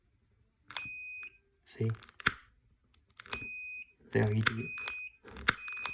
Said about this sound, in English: once it detects any fire